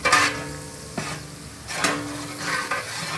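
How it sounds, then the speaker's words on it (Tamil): Onions and green chillies deep frying in oil for chicken biryani sizzle steadily, broken by a few scraping stirs of a spatula in the pan, close and clear with no voices. "ஆனியன் வந்து நல்லா டீப்பாக ஃப்ரை பண்ணுறோம்."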